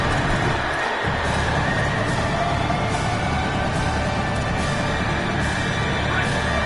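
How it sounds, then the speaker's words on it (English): A loud, dense roar from a stadium crowd cheering the defense on third down in an American football video game, continuous and steady through the whole stretch with no breaks. "Decibels rising as the crowd gets behind this defense on 3rd down."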